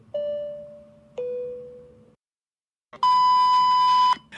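An airplane cabin chime sounds as an electronic ding-dong: two descending tones, a pause, then a longer bright beep held for about a second, all clear and alone with no talking.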